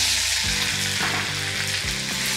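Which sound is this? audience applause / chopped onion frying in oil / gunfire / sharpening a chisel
chopped onion frying in oil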